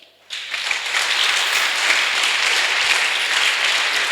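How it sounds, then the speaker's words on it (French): Applause for the Lord from a church congregation, beginning abruptly after a brief quiet and building into dense, steady crowd clapping that holds at full strength for several seconds, with no speech over it. "Donnons une acclamation au Seigneur."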